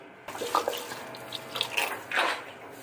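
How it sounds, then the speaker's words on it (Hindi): Water is poured into a pot for beef paya, a close splashing and gurgling stream with a few metallic pot knocks, heard alone without talk. "अब इसके अंदर हम डालेंगे पानी"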